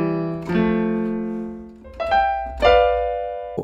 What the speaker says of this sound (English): for this song I chose the dark piano preset that goes like this